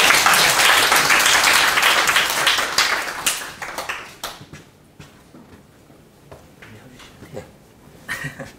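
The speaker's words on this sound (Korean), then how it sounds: "박수 부탁드릴게요" Audience applause at a Naver Cloud AIaaS graduation ceremony, a dense wash of many hands clapping loudly for about four seconds, then thinning to scattered claps and a brief final burst.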